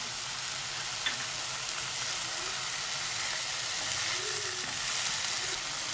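Fresh fenugreek leaves fry with spices in a pan, giving a continuous loud sizzle and crackle with a few faint stirring scrapes, close up and steady throughout.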